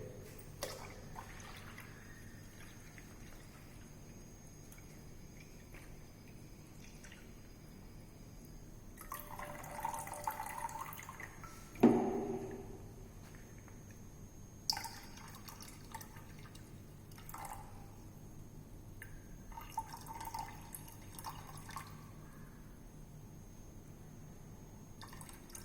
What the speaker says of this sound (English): Now you apply water once again. Pour water in the bucket.